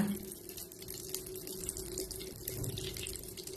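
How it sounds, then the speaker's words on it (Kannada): Mustard seeds crackle and sizzle in hot oil in a kitchen pan, a soft, steady frying hiss with fine popping throughout, heard nearby at low volume without speech. "ಸಾಸಿವೆಲ್ಲ ಎಲ್ಲ ಚಟಪಟ ಅಂದಮೇಲೆ"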